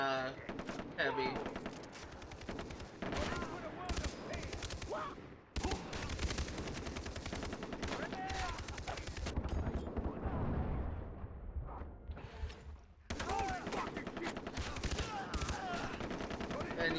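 Rapid gunfire from the video game Far Cry 3, with dense bursts of shots and blasts running through most of the stretch, loud and close, broken by a couple of brief pauses, with a voice talking over it.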